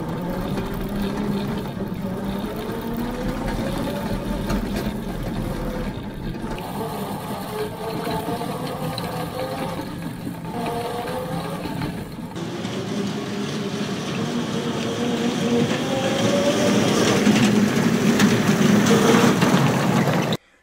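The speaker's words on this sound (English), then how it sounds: "I want to ride it one last time with electric propulsion." A large pedal-car lorry converted to electric drive runs steadily for about twenty seconds, its motor giving a continuous whirring hum with shifting pitch that grows somewhat louder toward the end.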